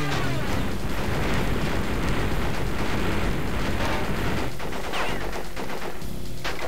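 Dense, rapid bursts of gunfire and explosions fill the game Crash Bandicoot 3: Warped as crates are shot, loud and continuous before thinning slightly near the end.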